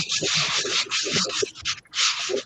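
Steady, hissing abrasive strokes of sanding repeat in quick rhythm close by, briefly pausing before resuming, with faint voices underneath.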